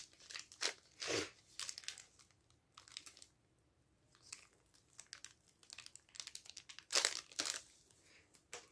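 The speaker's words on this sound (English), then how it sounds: "she's got a whole like plastic bolero going on here. Get that off." Thin plastic wrap crinkles and crackles in short bursts as it is pulled off a Blythe doll, close and fairly quiet, with pauses between handlings.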